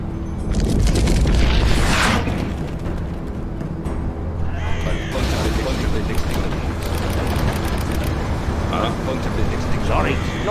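High explosive bomb detonating in C&C Generals Zero Hour, a loud boom with rumbling blasts and debris spread across the clip, mixed with other battle noise and unit voice lines.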